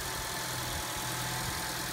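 A Chevy Cruze engine idles steadily while warming up after being washed, a constant, even hum with a low, faintly pulsing rumble underneath and no voices.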